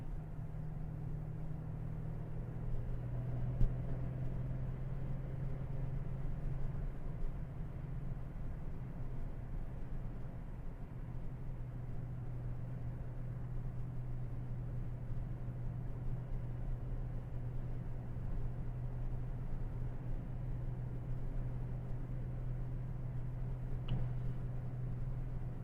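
Steady low engine drone and road rumble inside a 2025 Audi RS7 Sportback with a 621 hp engine and 8-speed automatic, cruising at about 80 in 7th gear; a constant even hum runs throughout with no talk.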